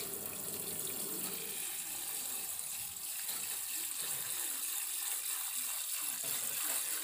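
Soaking water is poured off sago pearls into a sink, a steady close running gush with no talk.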